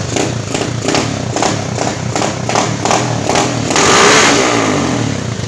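A carbureted motorcycle engine, a HEREX custom build being tuned, revs repeatedly in rhythmic bursts and then holds a higher, sustained rev near the end, loud and close with no talking.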